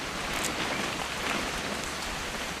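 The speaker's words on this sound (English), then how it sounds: "It's gonna rain the whole weekend, isn't it?" Steady, even rain hissing in What Remains of Edith Finch, a constant close wash of falling water with no voices.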